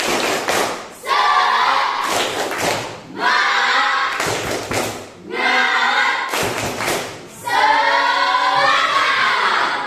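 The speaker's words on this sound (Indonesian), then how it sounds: "Tepuknya, oke, kita mulai. Tepuk semangat." A class group claps a rhythmic cheer pattern, loud clustered bursts of hand claps alternating with shouted chanting voices, repeating several times.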